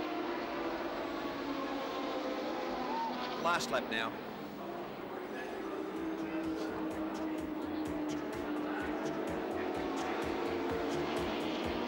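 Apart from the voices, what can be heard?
touring race car engine driven by Glenn Seaton, Sandown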